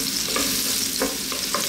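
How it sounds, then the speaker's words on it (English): Onions and garlic frying in a pan, stirred around with steady sizzling and a few soft scraping stirs, close and alone with no voices. "Let's just throw this around in the pan, get these onions and garlics on their way."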